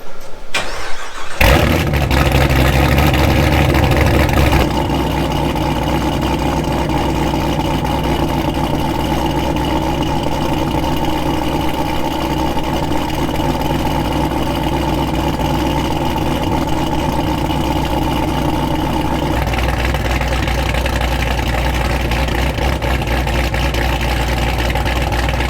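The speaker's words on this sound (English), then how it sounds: "That was the Legend setup. I really like the way it sounds at idle." A Chevrolet Camaro with a Legend exhaust setup fires up and settles into a loud, deep, steady idle, with a slight drop in tone near the end.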